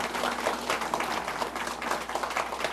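An audience at a Korean community candidate debate in Chicago applauds two candidates, with dense, sustained clapping from a crowd in an indoor hall for the full stretch.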